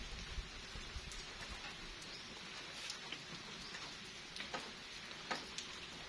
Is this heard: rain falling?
yes